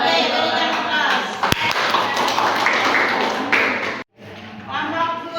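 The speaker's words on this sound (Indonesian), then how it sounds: "berikan aplaus" An audience claps and applauds steadily at a school group presentation on academic supervision coaching, with a dense patter of hand claps, one sharp tap, a brief break near the end, then clapping resumes with some voices underneath.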